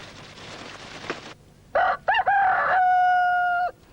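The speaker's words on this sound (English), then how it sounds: "He painted a cockerel," A rooster crows loudly in one long, drawn-out call after a short burst of noise.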